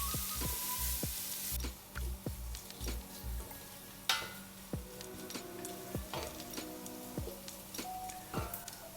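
Onion sautéing in a pan as the base for chicken tinola, a steady sizzle of frying with intermittent stirring and scraping clicks of a utensil against the pan, close and moderately quiet, no talking.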